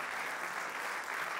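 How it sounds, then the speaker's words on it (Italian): Dense, steady applause from a theatre audience at a live comedy show at Teatro Concordia in San Benedetto, sustained and fairly loud throughout the brief moment with no voices standing out. "Fatevi un applauso, siete un grande pubblico."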